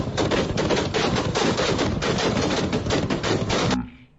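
Rapid, sustained M4 rifle fire during Marine training rattles in a dense continuous burst for several seconds, loud and close, then cuts off abruptly into a quiet tail.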